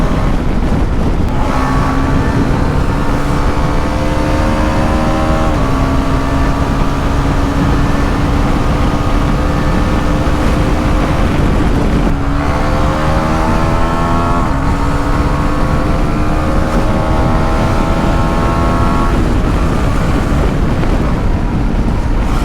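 A 400cc KTM motorcycle at speed on a highway, engine droning steadily with rising and falling pitch as gears shift, loud and close under heavy wind rush throughout.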